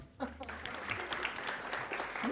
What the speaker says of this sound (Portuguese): Uma salva de palmas pro Fábio.